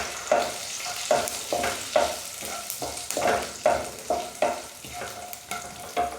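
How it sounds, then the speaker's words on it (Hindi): Whole spices frying in hot oil for a soybean curry, a soft continuous sizzle broken by repeated stirring scrapes at a fairly steady rhythm, close up. "तो ऑयल गर्म हो गया है तो इसमें ये हम मसाले डाल देंगे। और मसालों को हल्का सा भून लेंगे।"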